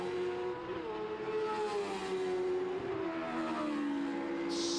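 Monoposto single-seater race cars at Brands Hatch, a nearby engine note climbing and shifting as a car drives past, with a second engine's tone underneath and a brief high squeal near the end, no talk.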